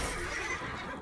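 A horse neighing in the video game Chivalry 2, one brief whinny that fills the moment, loud and close amid busy battle noise.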